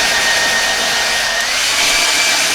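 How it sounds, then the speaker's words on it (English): A handheld blow dryer runs on high heat, giving a steady, loud, continuous airy whoosh with a faint motor whine for the whole stretch, no voices over it. "Not the best blow dryer, but hey, work with what you got."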